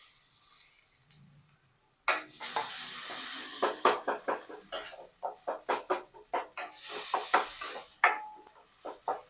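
Red chilli masala sizzles loudly in a pan for a black-eyed-pea-style kala vatana usal while a spoon stirs it, giving repeated scraping clicks over a steady hiss after a quiet opening.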